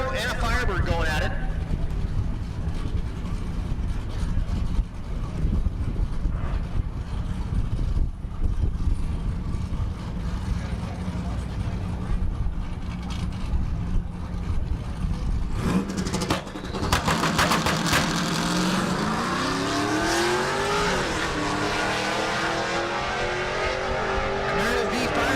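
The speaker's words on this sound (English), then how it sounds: "we got a Camaro and a Firebird going at it." A fourth-generation Camaro and a Firebird drag racing at the SRCA dragstrip in Great Bend, Kansas: a continuous loud engine roar that surges near the end as the cars launch, with a commentator talking over it.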